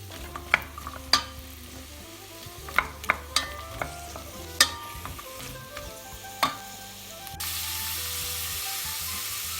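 A carrot and a medium celery stalk are stirred in a pot, frying with a steady background sizzle and a series of sharp utensil scrapes and clicks, then a louder hiss near the end.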